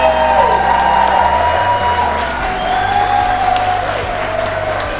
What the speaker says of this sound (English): Can we give them a big round of applause?